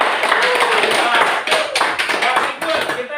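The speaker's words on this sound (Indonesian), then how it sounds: "Tepuk tangan buat kalian." A crowd applauding, dense overlapping claps filling the room for a few seconds with voices mixed in.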